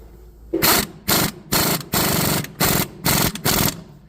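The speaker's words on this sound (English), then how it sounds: "take the impact. Make sure it's going the correct way here. And we'll start by doing the bottom one here." An impact wrench drives a shock absorber bolt on a 2005 Chevy Monte Carlo, giving five loud, close bursts of rapid hammering with short pauses between them and no talk.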